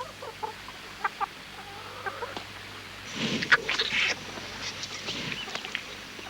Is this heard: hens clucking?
yes